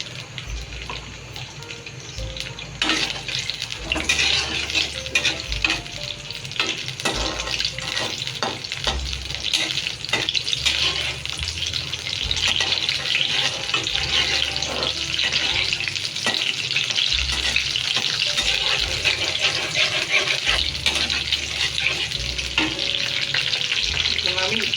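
Garlic and dried chilies fry in about five spoons of oil, a steady broad hiss running the whole time with occasional stirring scrapes and clinks, while a low hum sits underneath.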